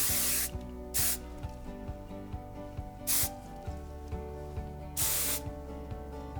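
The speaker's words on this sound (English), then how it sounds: "And then we're gonna go ahead and spray it." Three short bursts of hairspray hiss from an aerosol can, each about half a second long, over a steady background of music.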